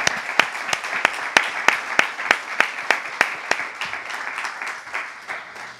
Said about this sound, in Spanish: Por favor, un aplauso para todos.